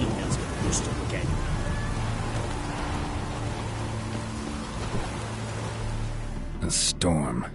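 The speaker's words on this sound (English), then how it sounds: "A storm, damn it." Steady rain patters across a stormy scene in The Witcher 3, a continuous dense hiss under intermittent game speech and background sounds, with a couple of sharp bursts near the end.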